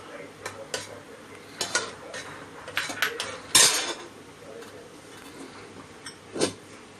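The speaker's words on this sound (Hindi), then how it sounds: "ये देखो 2 अंडा मैंने फोड़ी इसमें, अभी इसको मिक्स करने का है।" Two eggs being mixed in a bowl with a utensil, giving irregular metallic clinks and taps against the side, close and fairly crisp, with a faint voice now and then.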